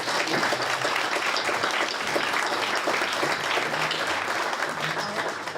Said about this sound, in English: if we could please give everybody a round of applause